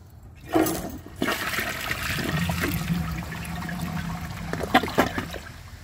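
A 2014 Vortens Murano toilet flushes, with a sudden rush of water into the bowl, a sustained swirling drain and gurgle of the siphon, then trickling refill, close and alone.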